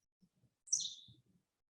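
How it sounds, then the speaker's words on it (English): A single very short Henslow's Sparrow song from a grassland, one brief thin high buzzy chirp, faint and somewhat distant, with soft low background murmurs around it. "Probably the shortest song I've ever heard in my life. Yep, it's a Henzo Sparrow."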